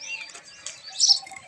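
Small birds, likely including pigeons, gathering to feed on scattered grain, with quick bright chirps and tweets and a soft flutter of wings, close by and fairly quiet over a brief moment.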